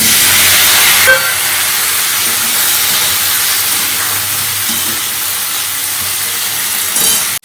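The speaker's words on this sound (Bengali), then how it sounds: "আলুটা ভাজবো।" Potatoes fry in a pan with a steady, loud broadband hiss of sizzling oil that carries on unbroken for several seconds, with a brief louder burst near the start.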